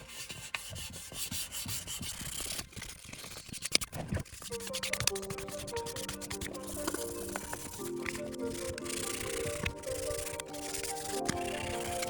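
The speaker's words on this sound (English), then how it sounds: "The next step is to go over the steering wheel with 1500 grit" A leather steering wheel is sanded by hand with 1500 grit sandpaper, giving close, soft rubbing and scratching strokes in an uneven rhythm, with a faint tonal hum in the background.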